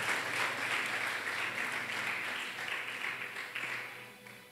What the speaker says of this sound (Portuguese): você dê uma salva de palmas, e essas palmas é para adorar o nome do Senhor